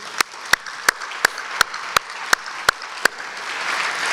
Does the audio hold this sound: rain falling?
no